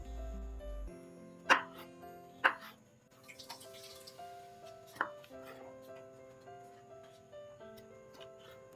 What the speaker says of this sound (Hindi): पाइन एप्पल को स्लाइस में काट लेंगे